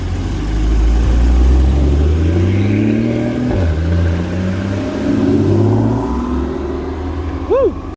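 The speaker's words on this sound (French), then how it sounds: "Encore une Aston Martin exclusive qui arrive. Une Zagato, V12 Zagato." An Aston Martin V12 Zagato rolls in with a loud, deep engine note that swells and shifts pitch as it arrives nearby, while people talk excitedly over it.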